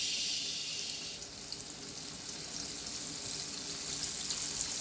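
Flour-coated chicken strips frying in a preheated frying pan, a steady close hiss and sizzle that holds constant throughout without any talking.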